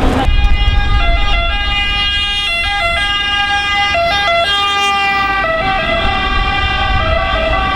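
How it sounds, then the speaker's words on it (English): An ambulance siren wails loudly and steadily on a street in Rome, its tones stepping up and down over close road traffic, with no voices. "there's an ambulance every 5 minutes running through this town."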